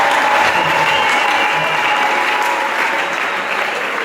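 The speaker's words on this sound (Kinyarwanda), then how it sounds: "Amashyi menshi atesa." Loud, sustained applause from a large crowd at a gathering, a dense unbroken roar of many hands clapping that holds steady for several seconds.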